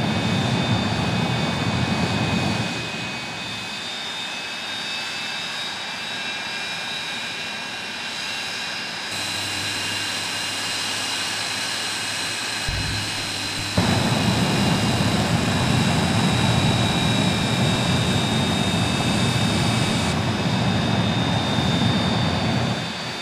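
Jet truck engine roaring at Rockford Speedway during a night of thrills show, a loud sustained jet roar and whine that shifts in pitch and surges louder partway through.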